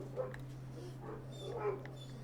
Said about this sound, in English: it looks like my other dog wants to go outside now